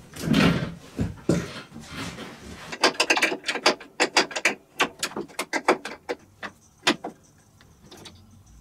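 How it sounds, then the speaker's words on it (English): Wrench ratcheting on bolts of a mini Baja bug's jack shaft, loosening them so the shaft can slide forward: rapid clicking bursts and metallic clacks in an irregular rhythm, close and fairly loud, no talking. "I'm just gonna loosen these bolts and slide it forward a little bit"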